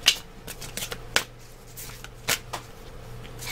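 A deck of oracle cards is shuffled up close, with a series of crisp riffling flicks and soft slaps at irregular intervals over a faint low hum.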